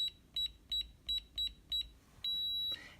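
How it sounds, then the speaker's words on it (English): Six short electronic beeps in quick succession, then a single longer high-pitched error tone from a ScanLogic keypad lock rejecting an invalid code, clear and close. "it gives you those red lights and the long beep that says this is an invalid code"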